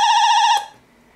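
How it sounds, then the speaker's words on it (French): An alarm simulator sounding a loud, steady electronic tone with a slight wobble, which cuts off abruptly after about half a second. "Là nous avons l'alarme qui s'est enclenchée"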